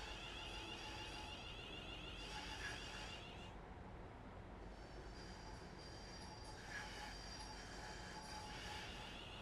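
A Class 350 electric multiple unit in West Midlands Railway special livery runs steadily on the line between Birmingham and Crewe in a train simulator game, with continuous rail rumble, wheel noise and faint squeals throughout, no talking.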